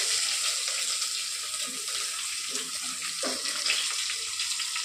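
Onions, cumin, mustard seeds, fenugreek and urad dal sizzle in hot oil in a pan, giving a steady, bright hiss with faint crackles throughout and no talk.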